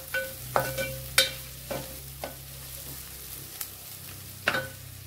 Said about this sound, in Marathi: आलं लसणाची पेस्ट आहे ना मस्त अशी मिक्स करून परतून घ्यायची